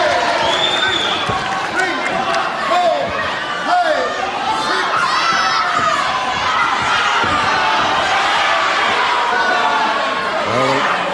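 A wrestling crowd in a hall reacts as fighters brawl outside the ring during a televised World of Sport bout: a dense, steady roar of shouts and jeers, loud and continuous, with a commentator talking over it.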